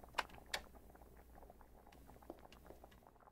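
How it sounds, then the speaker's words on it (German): Soft bubbling of a cooking pot in a kitchen in the horror game The Witch House, a faint steady simmer with two sharp clicks near the start, no voices. "Der Topf kocht."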